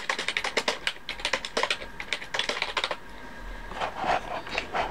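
A computer keyboard is typed on in quick, close clattering runs of keystrokes with a short pause near the end, at a returns desk with gaming products.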